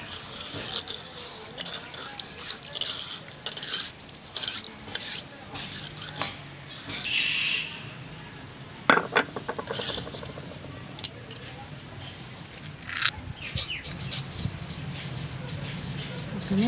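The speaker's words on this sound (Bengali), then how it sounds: "এবার মশলাটা বেটে নিচ্ছি" Spices such as cumin, black pepper and coriander being ground by hand on a stone for a soybean curry, giving scattered scraping and knocking strokes at close range with faint background activity.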